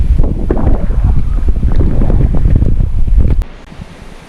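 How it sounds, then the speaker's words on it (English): Strong wind buffets the microphone on the shore at Saltwick Bay, a loud rumbling gust that blows steadily before dropping off sharply near the end. "the wind's getting up now"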